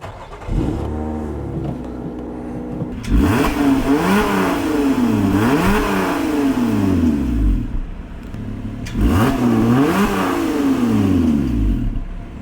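Supercharged British sports car, a short-wheelbase track car, whose engine fires and idles, then is revved several times in rising and falling sweeps, loud and close with the supercharger's whine, with short pauses at idle between bursts.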